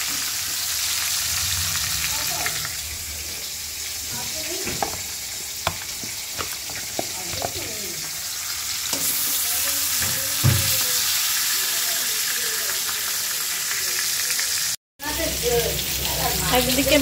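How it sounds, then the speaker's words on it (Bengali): Fish frying in a pan at home, giving a steady sizzle with occasional stirring clinks and scrapes, close and continuous for the whole stretch. "দেখো আমি কিন্তু এখন মাছ ভাজা বসিয়ে দিয়েছি।"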